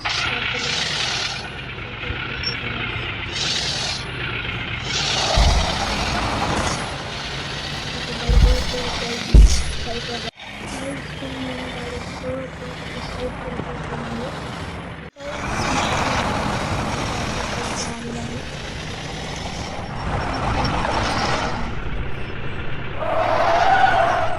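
Car and truck engines drone steadily through a driving video game, with vehicle noise filling the scene, brief skid-like bursts, and a voice talking over much of it.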